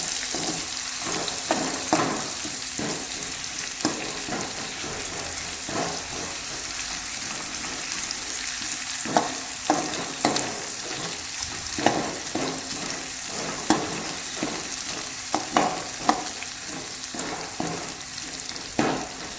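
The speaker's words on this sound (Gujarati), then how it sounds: "વઘાર માટે પત્તા નાખી દઈશું, તમાલપત્ર, આદુ લસણની પેસ્ટ ને મરચાં આપણે 3 નાખી દઈશું અને થોડું ફ્રાય કરી લઈશું" Bay leaf, ginger-garlic paste and chilies frying in oil for a tempering, a loud continuous sizzle with popping crackles and occasional stirring knocks, close and steady with no talk.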